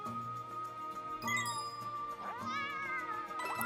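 A cat meows repeatedly in Bowser's Fury, several rising, tonal calls over bright game music and chiming jingles.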